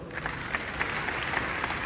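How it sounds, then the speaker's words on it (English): A brief burst of applause from a crowd, scattered claps forming a steady, moderately distant patter that fades in and out. "So please do give yourself a round of applause."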